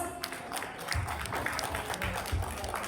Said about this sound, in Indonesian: tepuk tangan untuk Perwas